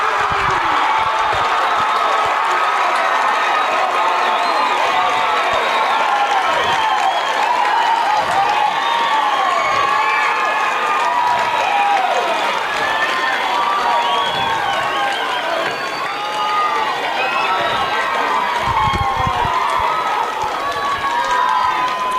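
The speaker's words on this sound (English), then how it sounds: "This Lehi crowd seems to be getting louder and louder and louder" A Lehi crowd at a 6A high school baseball semifinal against Riverton keeps up sustained cheering, shouting and clapping, with many overlapping young voices and whoops. The din stays loud and dense across the whole stretch.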